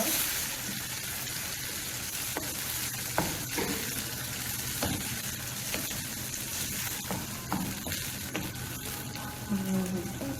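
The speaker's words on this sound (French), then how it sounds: "je vais bien mélanger ça" A mixture is stirred into a simmering peanut sauce for cassava fufu, a steady sizzle and bubbling with repeated spoon knocks and scrapes against the pan throughout.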